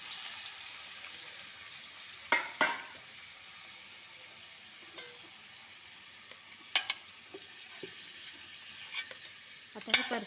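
Village chicken sautéing in oil with garlic in a pan on a wood-fired chulha: a soft, low sizzle runs throughout, broken by a few sharp stirring scrapes and clinks.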